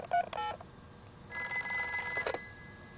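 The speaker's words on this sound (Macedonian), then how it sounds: "ќе му се јавам на доктор Браунбер" Cartoon telephone call from a Peppa Pig episode: a few quick dialing beeps at the start, then a bright electronic ring tone lasting about a second, clean and close with no voices.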